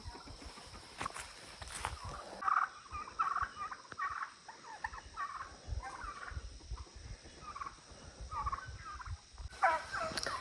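Turkeys gobble repeatedly in bursts, fairly close, with some shuffling and farmyard background noise throughout.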